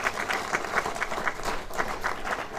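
Loud audience applause at a retirement gathering for Master Ali Shan Khan in Rajouri, with quick, rhythmic clapping pulses running steadily throughout.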